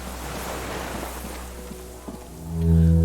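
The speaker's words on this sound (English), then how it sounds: "The distant sound of cargo ships." A distant hum of cargo ships on the water from the video game Disco Elysium: The Final Cut sits under rain-like watery ambience, and a low horn-like tone swells at the end.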